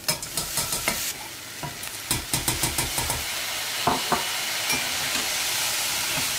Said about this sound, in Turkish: Şöyle biraz daha kavuracağım.